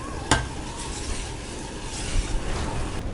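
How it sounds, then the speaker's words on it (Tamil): A utensil stirs through thick pumpkin sambar in a pot, with a sharp clink near the start and soft scraping and bubbling throughout. "நல்லா மிக்ஸ் பண்ணி விடுங்க."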